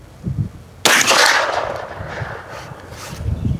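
A single sharp rifle report from a lever-action gun, a Winchester 94 or Marlin 1894, fired outdoors at a range: one loud crack with a long decaying echo, after a moment of low murmuring.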